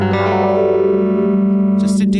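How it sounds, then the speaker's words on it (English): An electric guitar chord rings out through a sweep echo pedal, sustaining with a rich harmonic tone that swells and modulates, loud and close, ending in a scratchy burst. "I think I'm gonna use the sweep echo setting."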